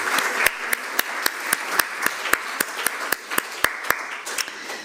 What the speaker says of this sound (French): Donc nous l'applaudissons de nouveau.